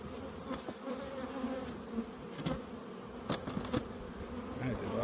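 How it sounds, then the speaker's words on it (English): Honey bees buzz in a steady, busy drone around a newly installed hive on a ranch, with individual insects flying close past in brief louder swells over the low continuous hum. "these bees are moving."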